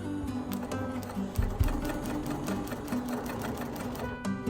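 A Brother PQ1500SL semi-industrial sewing machine stitches at a steady, moderate pace, its even mechanical whir and rapid needle clatter close and continuous throughout.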